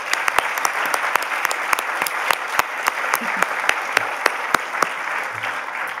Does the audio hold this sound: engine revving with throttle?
no